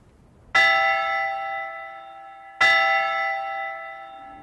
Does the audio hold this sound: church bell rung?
yes